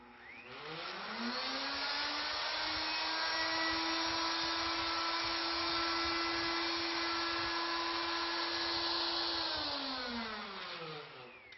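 A CNC router with a rope molding bit cuts around the circumference of a wooden workpiece, spooling up to a steady, loud whine that holds constant, then winds down at the end.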